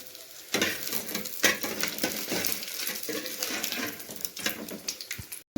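Fish frying in a pan, a continuous crackling sizzle broken by scraping and stirring clinks, fairly close and with no voices.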